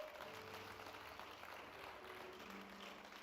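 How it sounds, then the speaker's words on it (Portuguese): Church congregation applauding during a sermon, a faint, continuous wash of clapping that holds evenly for a few seconds with no distinct voices. "Pode aplaudir o Senhor."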